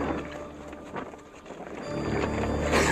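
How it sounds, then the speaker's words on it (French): Sails of a small offshore racing sailboat flap and rustle while it drifts in calm air, with steady wind noise and water sounds building toward a louder gust at the end. "La manœuvre, les skis, les voiles qui battent."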